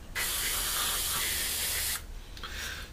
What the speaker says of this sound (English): when you're spraying, especially around air intakes,